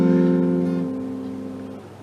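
An acoustic guitar strums a suspended fourth chord once, and the ringing strings decay gradually over about two seconds, close and clear with no talk.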